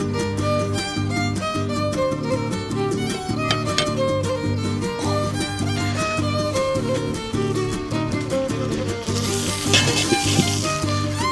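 Pieces of meat sizzle steadily on a discada for discada tacos, a continuous loud frying crackle with a brief surge of hissing near the end, no voices.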